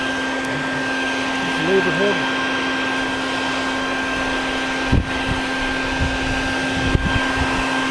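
A vacuum cleaner being used to suck up bees outdoors runs with a steady, droning hum throughout, while a voice speaks briefly and a few knocks sound over it.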